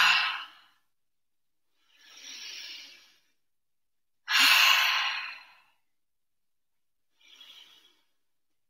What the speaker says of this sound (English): take some breathing